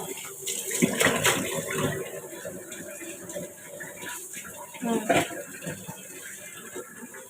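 Pieces of fish and a fish head are rinsed by hand in water in a home kitchen, with splashing and sloshing in bursts and a louder swish near the end. Someone talks throughout.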